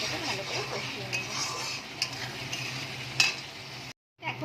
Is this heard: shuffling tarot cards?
no